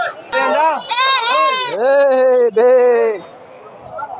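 Goats bleat repeatedly and loudly up close at a village livestock market, several long wavering calls in quick succession, with faint crowd murmur around them.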